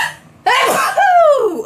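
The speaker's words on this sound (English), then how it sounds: "I have to sneeze" A single loud, close human sneeze with a sharp, voiced burst after a brief intake of breath.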